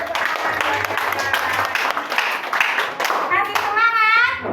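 Children clapping their hands in a primary school classroom, a lively burst of many small hands applauding together, with kids' voices calling out over it.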